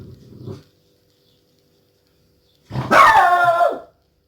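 A dog lets out one drawn-out, close bark after a short quiet stretch in a home craft room where a card is being painted; a faint brief sound comes just before it.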